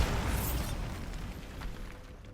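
A Bombarda spell blast in Hogwarts Legacy, set in a decayed catacomb: a loud, low rumbling explosion bursts at once and rolls on as a heavy, slowly fading roar with no voices.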